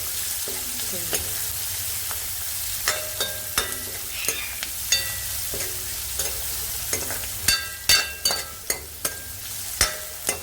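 Whole spices frying in oil in a pan for a Punjabi potato, onion and yogurt curry: a steady close sizzle with sharp metal spoon clinks and scrapes against the pan, no voices.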